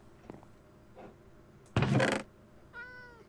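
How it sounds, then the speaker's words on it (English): A cat in the Minecraft video game meows several times, short clear calls with a louder burst in the middle and a final tonal meow near the end, alone over quiet game ambience. "I hear a cat."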